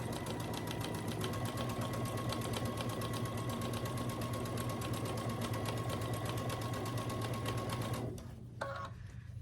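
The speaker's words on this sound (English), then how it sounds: "And then I stitch that 1/4 inch seam allowance." A sewing machine runs a quarter-inch seam on a quilt with a fast, even, close mechanical whir and rapid needle ticking that holds steady for about eight seconds, then stops with a few faint clicks.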